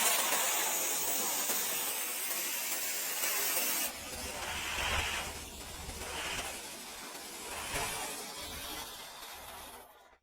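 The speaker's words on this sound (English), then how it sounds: "then sandblast both the inside and outside" Parts from a 1957 Wild Heerbrugg surveying level are sandblasted inside and out during restoration, producing a loud continuous blasting hiss that changes character partway through and then keeps up until it cuts off at the end.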